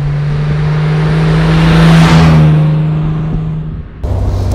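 Engine of a 1957 Lancia Aurelia B24 S convertible rising under acceleration, a steady close drone that swells to a peak midway, eases off, then cuts to a lower idle-like tone near the end.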